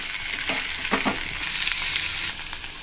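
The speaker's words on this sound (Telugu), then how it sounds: "ఆయిల్లో ఇలా కలుపుతూ ఒక 2 మినిట్స్ ఫ్రై చేసుకోవాలి" Garlic sizzles loudly in hot oil while a spoon stirs it round the pan, with close scraping strokes over a continuous bright crackle, and no voices.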